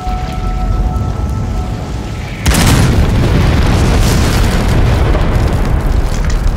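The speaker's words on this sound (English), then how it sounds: "I just heard the hiss coupled with the bang. Very big explosion." A very big explosion beside a burning tree, with a hiss coupled to the bang: a sudden loud, close blast breaks over a quieter rumbling background and leaves a sustained roaring wash behind it.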